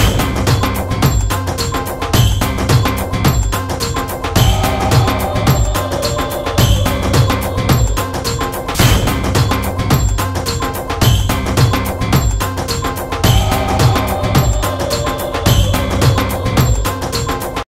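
Loud music plays continuously with a steady pounding beat and dense layered instruments, no voices standing out.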